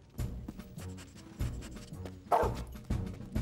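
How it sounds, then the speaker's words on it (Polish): Cartoon dog sniffing and barking in an animated fire rescue show: several short barks and yips in bursts, fairly close and clear, with no talking over them. "Trzymaj, piesku, i wąchaj dokładnie."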